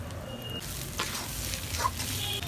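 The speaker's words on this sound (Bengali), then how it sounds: "আমি আলু সহ পেঁয়াজটাকে চালটাকে ভেজে নিচ্ছি" Rice, potato and onion fry in a pan for khichuri, giving a soft, steady sizzle with occasional stirring scrapes, quiet and close.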